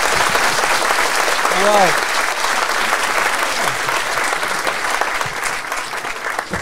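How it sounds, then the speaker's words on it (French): Comedy show audience applauding, a dense, close burst of clapping that holds steady and then gradually thins, with a brief spoken word and a short vocal exclamation over it. "On peut l'applaudir."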